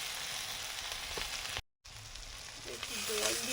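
Spice masala with turmeric fries in a pan, a soft continuous sizzle and hiss with a brief gap of silence midway and occasional faint clinks.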